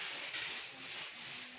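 Sandpaper rubs over a puttied interior wall during a house painting job. The scratching is steady and continuous, faint and close, with no voices.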